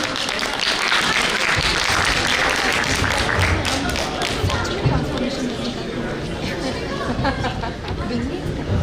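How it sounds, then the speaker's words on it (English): Guests at a 25th batch reunion applaud two classmates, loud clapping mixed with crowd chatter and speech that gradually gives way to talking and a few thumps. "So big round of applause for Deepika and Nitin"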